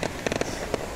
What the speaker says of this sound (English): There, you see the fireworks.